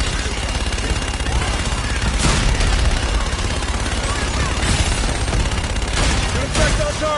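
Gunfire from an air strike in a video game: continuous rattling fire with sharper heavy bursts around two, four and a half, six and six and a half seconds, loud and close throughout.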